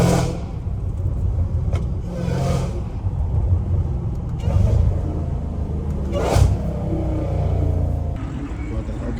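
A Dodge Hellcat Redeye with its 797 hp engine rumbles low and steady, swelling a few times in brief revs over a constant deep idle.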